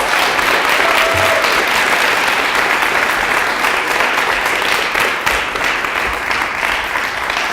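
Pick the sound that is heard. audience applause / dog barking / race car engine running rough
audience applause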